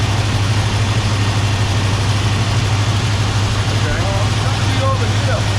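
A 1978 Ford Bronco engine idles steadily with a constant low rumble throughout, while people talk over it.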